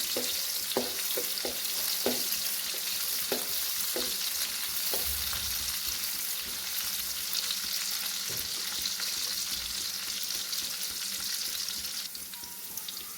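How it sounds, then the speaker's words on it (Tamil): Green chillies sauté in hot oil for a goat blood fry, making a constant close sizzle with a run of light spatula taps early on. "பச்சை மிளகாய் லைட்டாக வணக்கிக்கலாம்"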